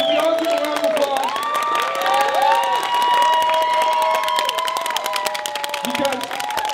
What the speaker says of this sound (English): Can we all give a round of applause?